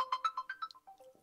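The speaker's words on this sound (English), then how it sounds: "We just been notified via phone that somebody is at the doorbell." A smartphone rings with an incoming call notification from a wireless Dzees doorbell camera, a short bright melodic chime of rising tones, clear and close with no voices.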